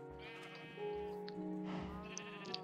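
Sheep bleating in the Minecraft video game, several drawn-out bleats close by over a steady game music bed, alone without talk.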